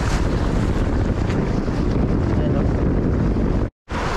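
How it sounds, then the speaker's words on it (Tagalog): Loud, steady wind buffeting the microphone outdoors while fishing near open water, a constant roar that cuts out briefly near the end. "mahangin"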